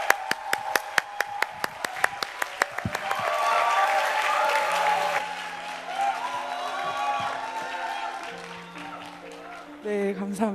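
A church congregation applauds to welcome the choir accompanist, starting with a few sharp individual claps that swell into a full round of applause, while a sustained organ or keyboard tone and a few voices sound underneath.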